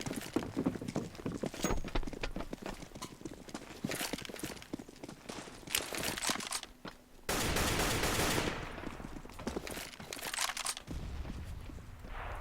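Counter-Strike match on the Train map, with bursts of Five-Seven pistol and AK-47 rifle fire in rapid, clattering volleys. Footsteps, a sustained roaring stretch and layered game effects surround the shots, all fairly loud and busy.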